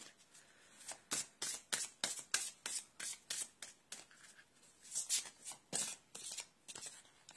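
Tarot cards are shuffled by hand in a quiet room, with steady riffling bursts repeating in a regular rhythm, close and crisp, and no talking.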